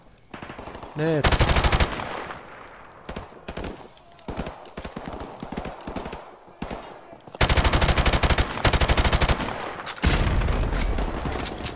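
Rapid automatic gunfire from Modern Warfare Remastered, in the Veteran-difficulty escape and AC-130 mission: loud dense bursts of machine-gun fire with sharp shots in between, while a player speaks briefly.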